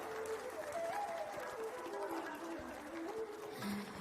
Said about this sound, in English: I request you all to give a big round of applause for Mr. Arunachalam, Congress Leader.